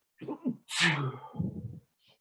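A man sneezes once, loud and close, with a sharp indrawn breath before the burst and a trailing exhale, set in a classroom.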